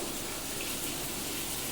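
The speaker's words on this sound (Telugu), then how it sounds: "దీంట్లో వాటర్ కలిపి కర్రీలో పోద్దామండి" Continuous gushing rush of water being poured into a potato curry, dense and steady throughout with no pauses.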